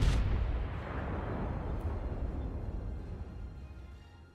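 The battleship Texas fires its guns in World of Warships: one deep, heavy boom opens the clip and rolls off slowly over several seconds into a long rumbling tail.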